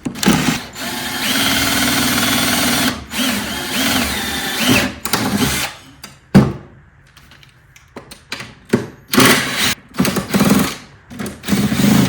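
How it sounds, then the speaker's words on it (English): A power drill drilling out Phillips screw heads on a battery runs in several bursts, whining steadily then stopping, interspersed with sharp clicks, clunks and brief quiet gaps. "Yeah, go straight for the drill, guys."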